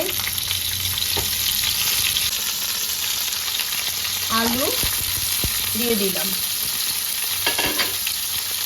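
Bitter gourd and potato sizzling and frying in hot mustard-style fish-frying oil with black cumin, a constant loud crackle with a few scraping stirs of a spatula, while someone briefly speaks.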